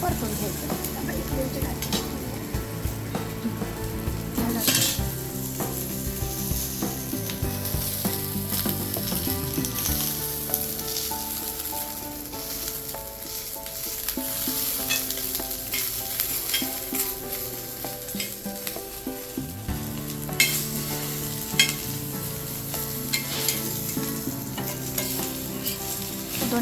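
Coconut, garlic and roasted masala sautéing in hot oil for mutton handi, a steady close sizzle with continuous stirring and occasional utensil scrapes throughout.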